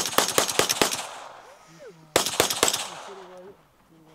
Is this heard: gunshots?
yes